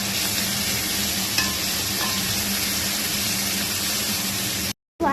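Onions, green chillies, ginger and garlic sautéing for biryani make a loud, continuous, hissing sizzle with a few light clinks, cutting off abruptly near the end.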